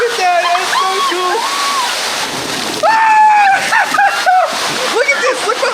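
A waterfall rushes and splashes steadily on a water park ride, loud and broadband, while excited voices talk and exclaim over it throughout.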